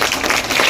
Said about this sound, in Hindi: बहुत ताली बजाओ सब लोग।